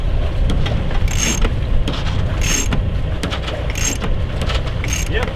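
A sailboat winch is cranked to hoist sail while reefing, giving a steady, close mechanical whirring with a regular ratcheting click about every second and a half, under wind and water noise.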